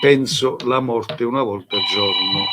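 A telephone rings with a steady electronic tone near the end, following someone speaking throughout the clip.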